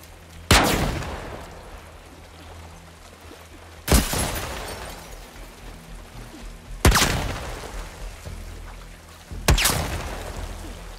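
Enemy gunfire in The Last of Us Part 2, four loud, sharp shots spaced a few seconds apart, each ringing out with a short echoing tail over a low ambient bed, with no talking.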